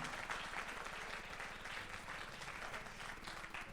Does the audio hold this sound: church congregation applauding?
yes